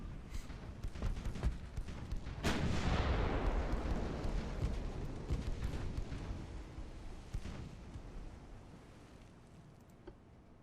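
Warship naval guns fire in the naval combat game Ultimate Admiral: Dreadnoughts. A heavy boom rolls out into a long rumbling decay over wind-like noise, with scattered sharper cracks around it.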